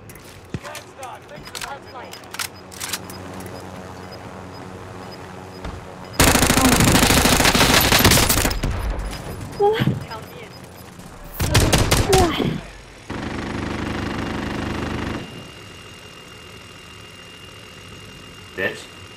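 Machine gun fire from a gunner in an online shooter video game, long sustained bursts with shorter volleys and engine hum between, loud and close, with occasional voices.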